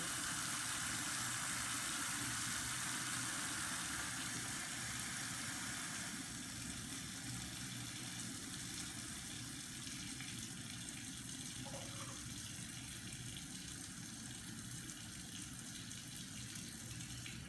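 Tap water runs steadily into a container as the temperature is adjusted toward 90 degrees for a bread-baking wild yeast starter, a continuous broadband rush that holds throughout and eases slightly partway through.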